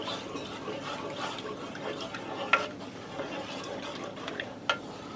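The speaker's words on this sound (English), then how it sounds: "I'm just going to stir this to blend the two together." Milk being stirred into a casserole sauce for a macaroni ham casserole, a soft steady swirling with a few light clinks of utensil against the pot, fairly quiet throughout.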